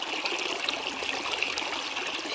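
Water from a spring runs along a small dug ditch in the Greek countryside near Thessaloniki, a steady close trickling and babbling flow with no talk over it.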